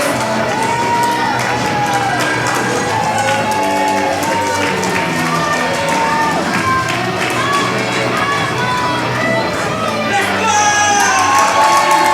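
A wrestling crowd at a live match cheers and shouts continuously, a loud dense roar with whoops and yells that holds for the whole stretch.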